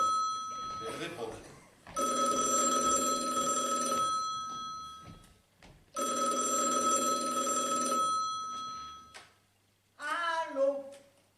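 A telephone rings during a stage play set in a bank, two long loud bell bursts separated by a pause, with people speaking before and after.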